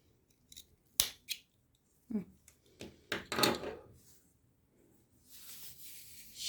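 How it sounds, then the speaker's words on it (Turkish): Scissors snip through thread for a hand-knotted bag, a few crisp close cuts among soft handling rustles, with someone talking quietly around them. "Dikiş için yetecek kadar ip kesiyorum."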